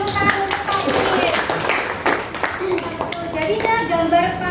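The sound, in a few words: classroom clapping for a student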